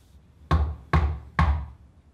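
Three heavy, evenly spaced knocks land on a door, each one loud and close with a short echo.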